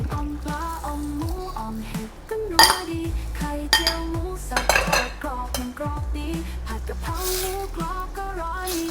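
A ladle clinks and scrapes against a metal pot as rice porridge with pork cartilage is scooped out to serve. There are repeated close knocks and scrapes over steady background music.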